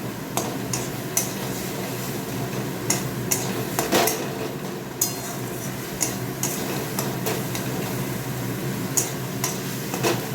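Leafy greens stir-fry in a pan with a soft constant sizzle, broken by frequent sharp clinks and scrapes of a utensil against the metal, close up and uneven in rhythm, with no voices.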